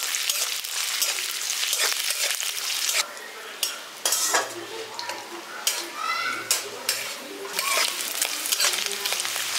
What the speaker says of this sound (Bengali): এবার নারকেলটাকে হালকা করে একটু লালচে করে ভেজে নিচ্ছি।